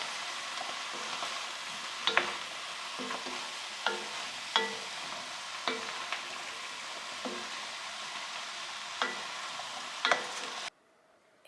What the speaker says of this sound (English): so now we're just going to add in the mushrooms. We're just going to cook this for a few minutes.